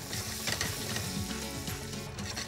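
French beans and capsicum fry in a pan with a steady, dense sizzle that runs unbroken throughout, close and moderately loud, with no voices.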